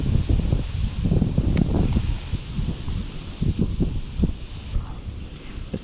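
Steady wind blowing across the French Broad River at Seven Islands State Park in Knoxville, Tennessee, buffeting a kayak and microphone with continuous rushing gusts and low rumbling bursts; no one speaks.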